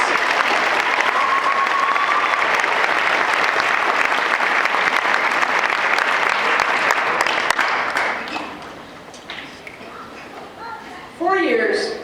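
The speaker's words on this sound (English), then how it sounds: "Give yourselves a big round of applause." A graduation audience at San Miguel High School breaks into loud, sustained applause for around eight seconds, then the clapping thins out and fades, and a voice speaks briefly near the end.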